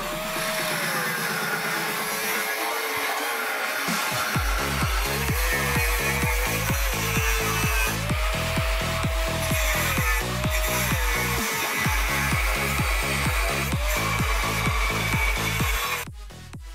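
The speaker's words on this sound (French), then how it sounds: "on découpe ma tôle." A power saw cuts a sheet of metal for a workshop stool, droning steadily for about sixteen seconds with a rhythmic pulsing chop and a wavering whine. A quieter hum comes before the cut gets going.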